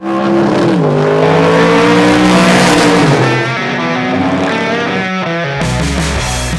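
A big red Chevrolet Camaro race car sits in the pits at Mid-Ohio, its engine revving loud and close with rising and falling harmonic tones before dropping to a rough idle.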